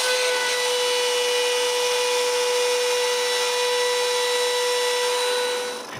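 A loud power saw whines steadily through a piece of wood at a constant pitch, running nonstop before winding down at the end.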